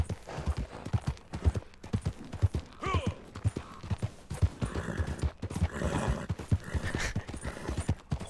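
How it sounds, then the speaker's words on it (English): A horse in Red Dead Redemption clops along with a rhythmic hoof beat while neighing and whinnying rise midway, close and moderately loud. "Horse doesn't like us too much yet."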